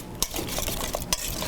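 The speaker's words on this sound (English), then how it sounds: "So we're going to whisk that together again." A utensil whisking a parsley and lemon filling in a bowl, quick scraping strokes with two sharper metallic clinks, close and brief with no talk.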